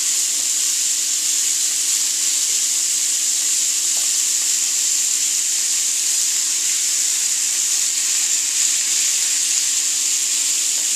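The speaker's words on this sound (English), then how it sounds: "I just want to cook the fillets themselves." Beef fillets frying in a pan, giving a loud, continuous close-up sizzle and hiss that holds steady throughout, with no talking.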